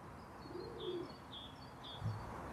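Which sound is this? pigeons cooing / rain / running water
pigeons cooing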